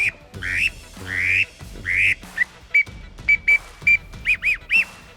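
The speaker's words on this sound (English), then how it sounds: "The Mallard Drake whistle by Zink" Zink Mallard Drake whistle duck call, opening with a few raspy drake grunts, then a series of short, sharp, high whistled peeps in a steady rhythm, close and loud with no talk.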